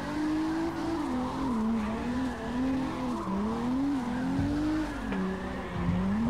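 A Toyota JZX100 Chaser drifts in the CarX racing game, its tire squeal wavering continuously over a constant engine drone, loud and close throughout.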